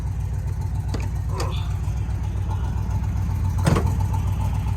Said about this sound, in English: I'm gonna show you the motor as it's running